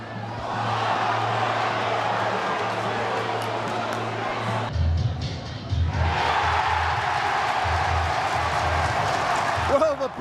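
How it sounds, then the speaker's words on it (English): A rugby league stadium crowd at Warrington v St Helens lets out a big roar that swells and holds steadily, with commentators talking over the cheering throughout. "the biggest cheer of the evening, as no try is being given"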